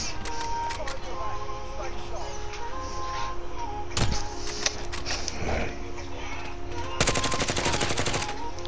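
Gunfire in a multiplayer battle game during a trio match, with distant shots scattered through the clip and a denser burst of rapid automatic fire near the end, under a continuous game soundscape.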